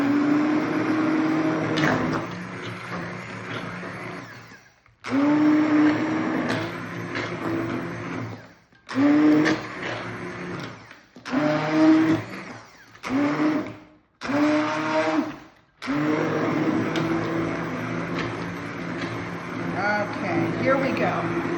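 A blender purees vegetables for carrot soup, its motor whirring in repeated bursts separated by short silent pauses before running steadily.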